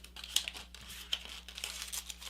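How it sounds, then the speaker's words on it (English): Sheets of paper crinkle and crease as a paper airplane is folded along an edge toward the center, producing soft rustling broken by a few sharper crackles, close and quiet, with no speech. "I want to fold this whole thing in right along that top edge,"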